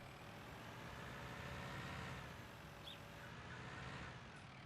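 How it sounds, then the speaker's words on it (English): Tractor engine labouring under a heavy load in Farming Simulator 19, a steady low diesel drone that holds loud and continuous throughout with no talking. "I can feel the tractor starting to slow down a bit."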